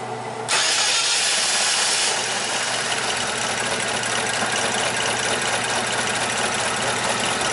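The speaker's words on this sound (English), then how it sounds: "So I guess all we need to do is crank it, start it, see what happens." A Chevy Equinox with a low-power fault cranks briefly, catches and settles into a steady, loud idle close by, the engine drone continuing evenly with no voices.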